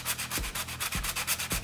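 Fresh ginger rubbed against a kitchen grater in steady back-and-forth rasping strokes, about three per second, close and clear, with no voice.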